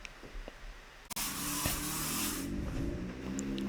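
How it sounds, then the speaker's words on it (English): Air freshener hisses in one sustained burst from behind a closed door, faint and slightly muffled, lasting a couple of seconds after a brief knock or bump. "that was actually my wife spraying some air freshener through the door"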